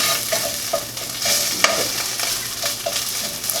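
A spatula scrapes and stirs chicken in a pan over steady sizzling, with short scraping strokes repeating close by.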